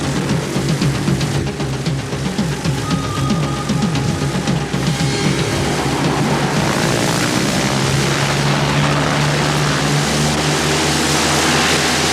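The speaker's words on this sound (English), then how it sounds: "Stop the plane!" A propeller airplane engine drones loudly and steadily from close by, a dense continuous roar with no break throughout.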